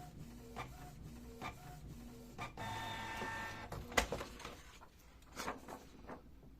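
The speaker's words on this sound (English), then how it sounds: "And now the nozzle check pattern will be printed." A Canon PIXMA G-series inkjet printer runs a nozzle check print, with repeated whirring carriage passes, clicks and a sharp clunk of paper handling, quiet and close with no talking.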